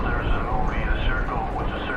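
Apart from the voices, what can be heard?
No everyday noise stands out behind the speech.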